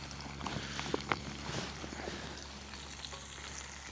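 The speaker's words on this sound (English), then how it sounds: "I'm going straight in with the meat. This is a lamb steak that I diced up." Diced lamb steak fries in a metal canteen cup over a camp stove, producing a quiet, steady sizzle with occasional small pops and scrapes.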